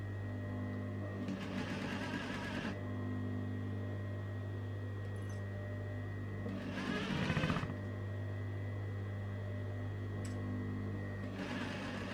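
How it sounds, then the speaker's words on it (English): A sewing machine stitches fabric bunting in three separate bursts of rapid mechanical whirring, with quiet pauses and a steady background hum between them. "Try and keep the stitching close to the edge."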